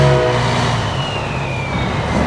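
Scania 143 truck engine at a truck show in Ireland, a loud, close, steady diesel drone with a low rumble and a faint whine drifting through it, heard alone without talk.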